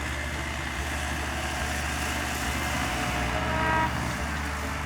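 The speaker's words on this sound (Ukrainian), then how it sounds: "Це слабенький трактор, це не тягне, погано тяне." A low-powered tractor engine drones steadily in a field during sowing and cultivation, a continuous rumbling hum at moderate distance with slight swells in load and no talk over it.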